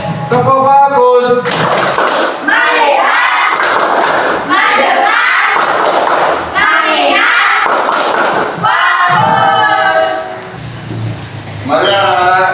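Young students in a classroom clap in unison and chant loudly in a repeated pattern, led by a teacher. The claps and voices are close, energetic and evenly spaced.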